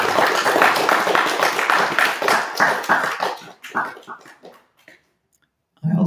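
A small audience at the end of a home class breaks into brisk, close clapping that thins into a few scattered claps and fades to silence, then a brief sound at the very end.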